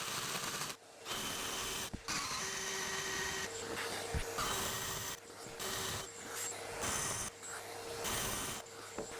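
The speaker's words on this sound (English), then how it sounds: "I'm just going to drill these out" A 1.5 inch paddle bit drills into wood while building a shave horse, giving a steady, loud whirring grind with brief drops and restarts, a shop vacuum likely running alongside.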